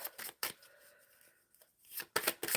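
A deck of tarot cards is shuffled in quick, crisp bursts of riffling and sliding, close and fairly quiet, with brief pauses between the bursts.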